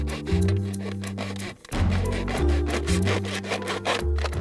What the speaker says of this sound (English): So we need to cut this guy a little bit shorter, just using our hacksaw again.